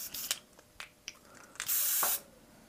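An AB200 airbrush spraying thin paint at low pressure: short hissing bursts and clicks, then a half-second sustained spray hiss, close and fairly quiet.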